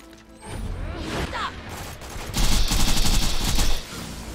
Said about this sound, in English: It's taken multiple shots with the Pimpernel to take out even the lesser surveyors.